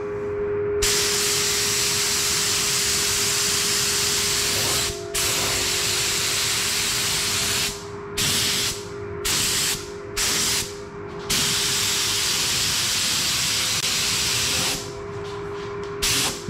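A spray gun lays a candy red coat onto a bicycle frame over a marble effect, hissing loudly and close in long bursts that break into shorter sprays toward the end.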